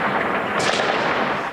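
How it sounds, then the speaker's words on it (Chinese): Anti-aircraft guns fire at drones over Kyiv, a short burst of sharp shots heard at a distance over a constant noisy background. "天空中突然出现无人机，乌克兰首都基辅枪声大作。"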